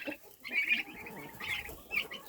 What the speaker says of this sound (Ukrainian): Ні, ну це індики, це такі смішні тварини